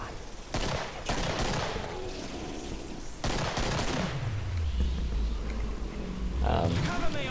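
Gunfire in the Killing Floor video game, bursts of rapid shots cutting in and out over a loud chaotic background with a deep rumbling growl rising near the end.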